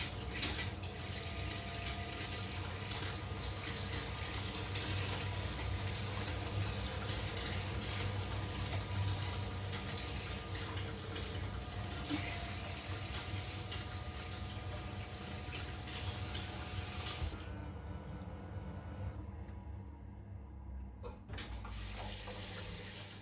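Water rushes through a Combi shower pump SP2B as it runs, a steady hiss of flow with a low pump hum beneath, continuing for about seventeen seconds before dropping away to near quiet and a faint trickle.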